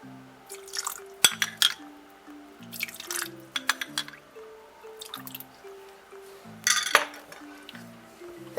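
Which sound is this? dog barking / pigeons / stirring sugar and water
stirring sugar and water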